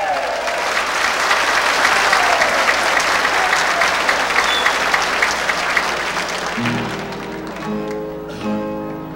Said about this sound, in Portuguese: E agora vamos aplaudir aquela dupla que a gente fica sempre com saudade dela